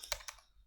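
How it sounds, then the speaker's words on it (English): A few quick keystrokes on a laptop's built-in keyboard, soft close clicks bunched in under a second, alone with no voices. "I'm going to use the keyboard on the laptop"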